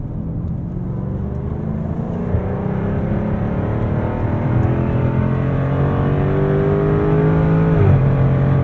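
A 2024 Jaguar F-Type R75 with all-wheel drive accelerates hard on a drive, its engine note climbing steadily through the gears in loud, continuous rising tones with a brief shift near the end, heard from inside without talk.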